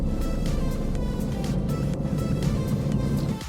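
A truck hauling cider apples drives along, its engine a steady, loud low rumble from the cab, constant throughout with no talk.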